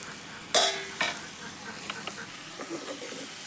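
Lai saag greens and potato stir-fried in a pan on a home stove, with a sharp sizzle as food hits hot oil, then scraping stirs and an ongoing crackle of frying.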